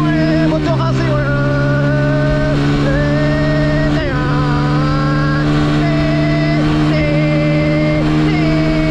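A motocross bike ridden along a Hollywood street revs loudly and repeatedly up and down, its engine note rising and dropping in quick pulls close to the rider.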